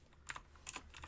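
Keys tapped on a computer keyboard while entering a command at a command prompt, a short quiet run of several clicks in two small clusters.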